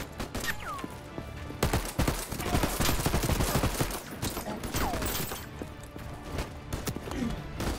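A homing-bullet gun in the video game Voidtrain fires in rapid, irregular bursts of sharp shots, loud and close, with brief pauses between volleys.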